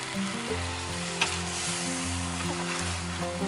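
Pork sizzles in a pot for a pork and vegetable gochujang stew as stock is poured over it, a steady close frying hiss with low bubbling and a brief splash near the middle, and no talk.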